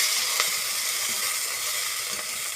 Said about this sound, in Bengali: জিরেটা কালো হয়ে এসেছিলো, তখন দিয়ে দিচ্ছি পেঁয়াজগুলো আর রসুনটা।